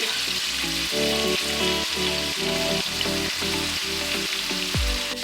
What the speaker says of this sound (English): Adding in the garlic. Now we'll just start grating the ginger right into the pan.